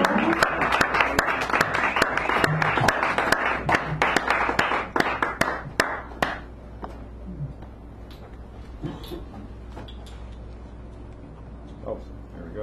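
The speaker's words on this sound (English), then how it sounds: "Tommy, give Tommy a round of applause." A cafe poetry-hour audience claps for poet Tommy, a dense, close round of applause that runs strongly for about six seconds and then trails off into scattered claps and room noise.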